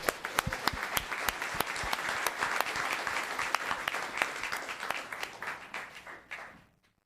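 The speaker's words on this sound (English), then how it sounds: "Let's give her another round of applause." A crowd at a town council meeting gives sustained applause, many hands clapping together at a steady level before it fades out.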